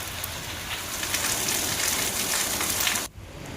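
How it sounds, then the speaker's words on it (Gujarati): Rain falling over a town, a steady dense hiss of drops that runs evenly and then cuts off abruptly near the end. "વરસાદ વરસ્યો।"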